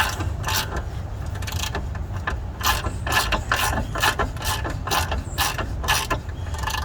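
Rapid ratchet wrench clicking in repeated bursts comes close and loud as a bolt is worked loose on a Jeep Cherokee Trailhawk during a rear lift install, with no talk over it.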